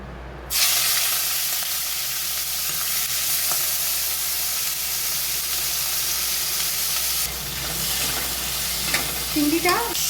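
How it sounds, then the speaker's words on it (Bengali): Prawns dropped into hot oil on low heat for lemon butter noodles, giving a loud, continuous close-up sizzle and hiss with a few faint stirring knocks toward the end. "তেল ভালো গরম হয়ে গেছে, এবার সিমে দিয়ে চিংড়ি মাছটাকে তেলে দিচ্ছি"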